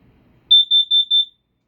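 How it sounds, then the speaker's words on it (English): A camper's gas leak detector alarm sounds four short, shrill electronic beeps in an even rhythm, loud and close, after a moment of quiet background. "If it's just a gas leak,"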